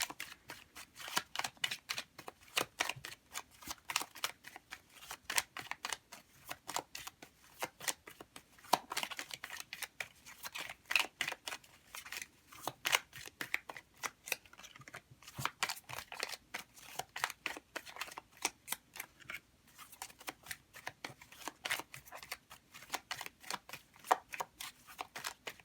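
Tarot cards shuffled and handled in a steady run of crisp, rapid flicks and riffles, close and fairly quiet, with no voices over them.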